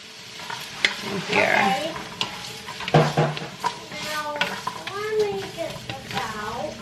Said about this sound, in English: I'm just gonna let that saute for a few minutes until the veggies are like soft.